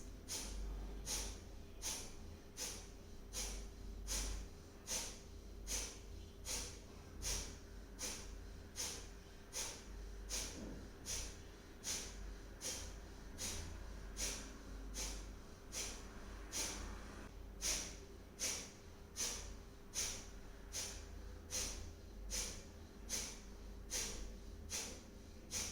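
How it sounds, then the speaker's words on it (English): Forceful Kapalbhati breath exhalations, rapid sharp nasal puffs in a steady even rhythm, roughly one per second, continuing for a long run over faint low background hum. "we start with the forceful exhalations"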